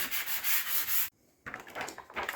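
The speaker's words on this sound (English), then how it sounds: "I saw that they are visible through the transfer, so I'm gonna lightly sand them away" Light sanding by hand on the wooden surface of a wine cart to remove marks: close, steady rasping rubs in two bursts separated by a short pause.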